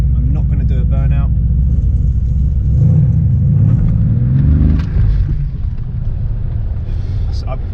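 A Mercedes AMG C63 with its exhaust valves open in Sport Plus mode rumbles and revs, a loud deep engine note rising and falling, with someone talking over it near the start and again at the end.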